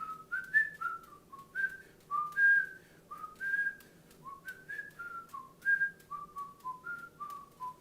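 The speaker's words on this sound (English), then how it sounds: "Da, da, da, whistle Dixie." A person whistles the tune Dixie alone, a bright melodic line of short gliding notes and phrases with small breaths between them, close and clear over a faint low background hum.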